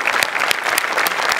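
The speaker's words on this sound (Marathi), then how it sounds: "मस्त झाला परफॉर्मन्स, एकदम जोरदार टाळ्या." Loud applause from an audience after a comedy stage performance, dense rapid clapping filling the whole short stretch.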